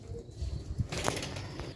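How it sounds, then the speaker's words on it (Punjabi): Badshahi bateray pigeons kept as long-flight birds in Sialkot, heard close with soft coos and a burst of wing flapping over a low rumbling background. "ਇੱਕ ਹੈ ਬਾਦਸ਼ਾਹੀ ਕਬੂਤਰ ਹੈ ਬਟੇਰਾ ਮੈਡੀਕਲ ਵਾਲਾ"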